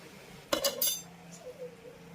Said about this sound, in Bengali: আর এদিকে আমি কুঁদরি আলু ঢাকাটা তুলে আপনাদের একটু দেখিয়ে দিচ্ছি।